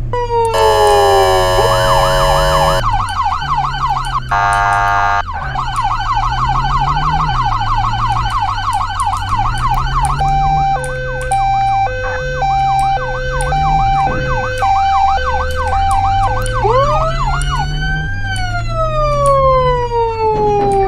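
Loud video game police sirens cycling through wail, yelp and rapid warble patterns, electronic and close, switching tones repeatedly over an engine drone.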